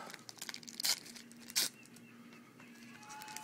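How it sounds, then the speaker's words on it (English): Flash paper crinkles while being wrapped around flash cotton, with soft rustles and two sharper crackling bursts, heard close and alone. "wrap your flash paper around your flash cotton"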